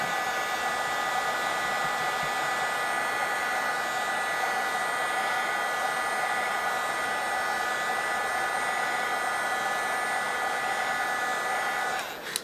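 A heat gun or hair dryer blows steadily on epoxy resin being warmed and stirred, a loud continuous whooshing drone with a tonal whine that runs unbroken for nearly the whole stretch before cutting off at the very end.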